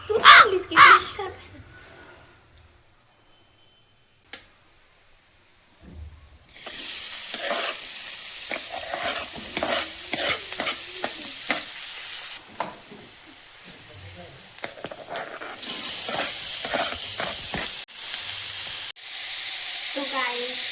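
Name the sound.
frying onion, cumin and tomato in oil for chole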